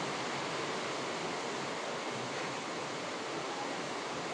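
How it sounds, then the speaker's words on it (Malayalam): Coconut oil sizzles in a hot pan, a steady hissing crackle that fills the clip without pause. "ഇതിലേക്ക് നമുക്ക് വെളിച്ചെണ്ണ ഒഴിച്ച് കൊടുക്കാം."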